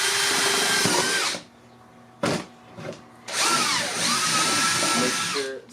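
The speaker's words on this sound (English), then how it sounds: "we're going to drill a hole and we're going to put the temperature probe right in it" A power drill bores a hole for a temperature probe in a Dubia roach colony enclosure, with a close, loud whirring burst, a pause, short spurts, then another long run of drilling.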